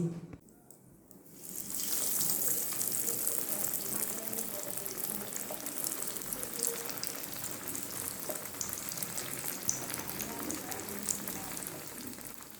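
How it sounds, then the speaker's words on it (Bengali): Breaded fish fry cutlets, North Kolkata cafe style, drop into hot oil and deep-fry with a loud dense crackling sizzle that swells after a quieter start and then holds steady, close up, with no voices. "আধ ঘন্টা ফ্রিজে রেখে আমি ফিশ ফ্রাইগুলো বের করে এনেছি, এবার ভেজে দেখাচ্ছি।"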